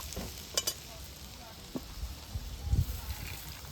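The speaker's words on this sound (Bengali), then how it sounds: "গরম তেলের মধ্যে পাঁচ ফোড়ন শুকো লঙ্কা আর আদা কুচি দিয়ে দেব" Panch phoron, dried chilli and ginger sizzle quietly in hot oil, a faint steady hiss broken by a few scraping stirs and small clinks.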